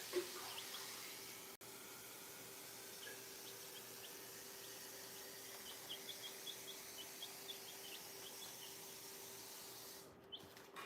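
Water running steadily into a container being filled with fresh water, soft and continuous over a low hum, with small clicks and a faint chirping scattered through.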